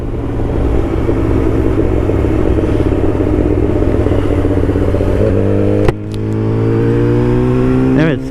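Sport motorcycle, a Yamaha R6 or Honda CBR1000RR, held at full throttle on a coastal road, a loud sustained engine drone with rising harmonics, a brief jolt near the end, then the engine climbing again.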